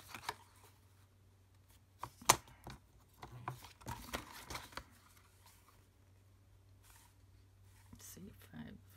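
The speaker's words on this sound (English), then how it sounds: "I will cut those." Card bases being cut for a card-making sheetload, heard as scattered soft cutting and paper-handling sounds with one sharp snap, sporadic and close, over a low steady background hum.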